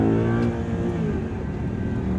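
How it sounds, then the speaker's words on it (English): Audi R8 engine mounted just behind the cabin, revving loudly from inside the car in a rising, roaring sweep that then settles into a steady growl. "all the noise is right there, because the engine's right behind us"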